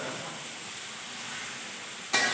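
Mutton frying in a wok for a light broth, a steady soft sizzle and hiss held close and even throughout, ending in a brief louder burst.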